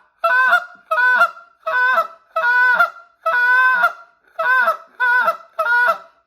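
A handheld goose call imitates the honking of giant Canada geese, giving eight loud, close honks in a steady rhythm with short gaps between them and no other sound.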